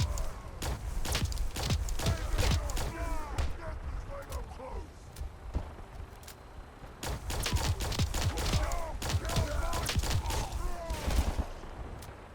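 A plasma rifle firing in Fallout 4, loud bursts of rapid shots in clustered volleys with mechanical clatter between them and brief pauses.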